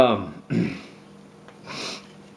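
A short voice sound, then a couple of wet nasal sniffs from postnasal drip, spaced apart, close to the microphone in an otherwise quiet room during wood carving.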